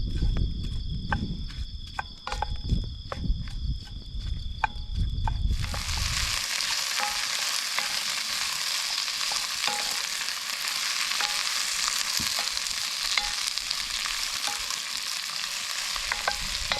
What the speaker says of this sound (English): let's start by just gently frying off the onion and dry spices